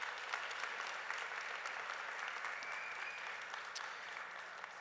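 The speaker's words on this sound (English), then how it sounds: "let's give them a round of applause" Audience at an honors convocation at Johnson C. Smith University applauding, a steady wash of clapping from many hands that holds at an even level throughout with a few sharper claps standing out.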